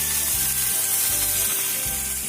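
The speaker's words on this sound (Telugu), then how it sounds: "లో ఫ్లేమ్ లో పెట్టుకొని లైట్ బ్రౌన్ కలర్ వచ్చేలాగా ఫ్రై చేసుకోవాలి" Idli pieces fry in oil on a low flame, a close, even sizzle with a crackling hiss that holds steady for a couple of seconds, alone without talk.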